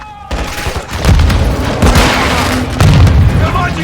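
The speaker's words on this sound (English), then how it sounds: "They're launching grenades!" Heavy booming grenade explosions in Call of Duty Modern Warfare II, loud rolling blasts layered with gunfire crackle and shouted voices over the battle noise.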